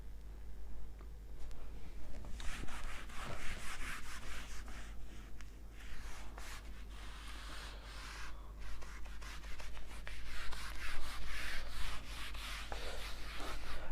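A teacher rubs out a board during a physics lesson, giving scratchy, uneven wiping and scrubbing strokes in bursts over a steady low hum, with no talking.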